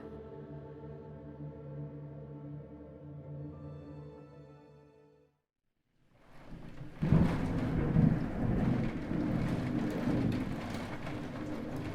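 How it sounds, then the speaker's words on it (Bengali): A sustained tonal hum fades to near silence, then heavy rain roars in with deep rumbling thunder, loud and continuous. "সেদিন সন্ধ্যার পর থেকে মুষলধারে বৃষ্টি নামল"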